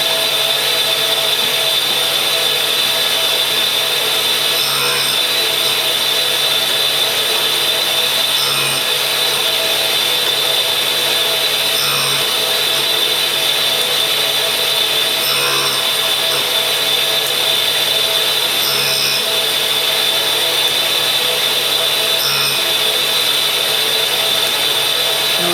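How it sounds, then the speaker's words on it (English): A tool and cutter grinder works a cutter, taking light passes of about a thousandth each, giving a steady high grinding hiss with faint periodic swells, unbroken and without talk. "So let's grind it in and have a go"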